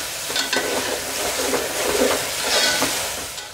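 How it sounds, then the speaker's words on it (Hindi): Onions with ginger-garlic paste fry in a pot for chicken biryani while being stirred, a loud close sizzle with rasping scrapes of a spoon that rise and fall in intensity. "प्याज के साथ अच्छी तरह से भून लेंगे ताकि अदरक लहसुन का भी जो कच्चा टेस्ट है वो चला जाए"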